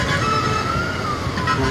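A fire truck siren wails at a fire in Brgy. Jalandoni Estate, Lapuz, Iloilo City, a loud continuous tone that bends slowly in pitch over a dense roar of traffic and crowd noise.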